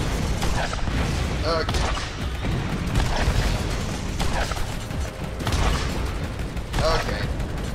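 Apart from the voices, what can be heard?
Gatling turret firing in the video game Borderlands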